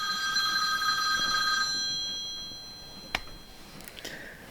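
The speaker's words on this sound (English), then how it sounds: "I should have turned the phone off." A telephone rings indoors, a steady electronic bell tone that stops partway through, followed by a faint click and quiet room noise with no one talking.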